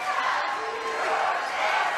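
Republic fans in a high school girls basketball semi-final gym answer Nixa with their own crowd cheer, a dense, loud wall of chanting voices that holds steady throughout.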